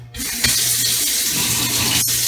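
Water pours steadily from a tap into a container for bread dough, a continuous close rushing splash with a small clink near the end and no voices.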